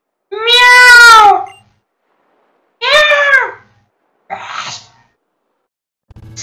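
Meowth, the cat Pokémon, cries in Pokémon Ultra Moon: two loud, drawn-out, tonal meows followed by a shorter, rougher third call, each separated by brief silence.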